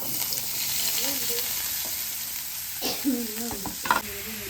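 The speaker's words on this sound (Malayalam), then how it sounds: "ഉള്ളി നല്ലോണം പാടുന്നുണ്ട്" Onions sizzle and crackle steadily in a hot pan after chicken was fried in it, with occasional stirring scrapes and faint voices in the background.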